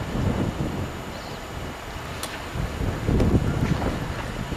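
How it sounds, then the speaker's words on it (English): Gusty wind buffets the microphone at a harbor on Orcas Island in Washington's San Juan Islands, a steady rumbling roar with stronger surges and no voices. "the harbor here, and it's windy"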